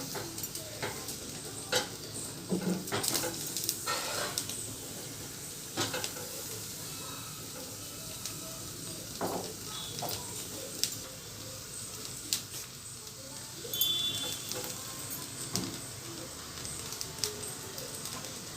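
Grated coconut roasting and being stirred in a pan over a gas flame for black mutton curry, a steady low crackle and hiss with scraping stirs and occasional clinks, fairly close.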